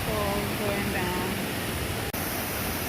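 A waterfall pours down steadily, a loud, constant broadband rush filling the whole clip with no clear breaks and no talk.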